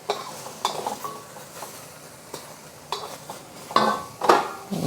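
Cooked shrimp are moved from a hot pan into a bowl, with a few scattered clinks and scrapes of a utensil against cookware over a quiet background, the sharpest knocks coming near the end.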